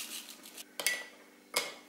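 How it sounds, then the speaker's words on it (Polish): Gelatin stirred into a small amount of cold water, a spoon giving a few quiet, sharp clinks against the side of the dish between brief scraping strokes. "Mieszam i odstawiam to, aby ta żelatyna napęczniała."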